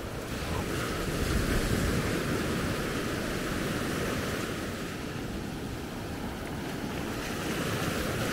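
Surf rolls onto the beach at Maspalomas, Gran Canaria, at sunrise, a steady broadband wash of waves mixed with wind buffeting the microphone, with no talking.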